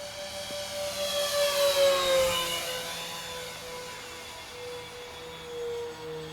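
An Avios Kingtwin 1700 twin-motor RC plane streaks past at about 80% throttle, a loud whining electric buzz that swells as it nears and then drops in pitch as it recedes into the distance.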